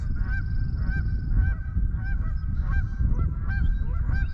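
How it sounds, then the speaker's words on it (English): Geese honk repeatedly in a steady, rhythmic series of nasal calls, fairly close, with no talking. "Little goose family."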